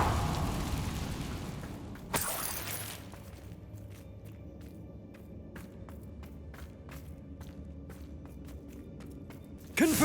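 A Confringo fire spell bursts in Hogwarts Legacy, a loud explosive blast near the start followed by a second burst at the very end, with scattered clicks and footsteps over a steady ambient bed.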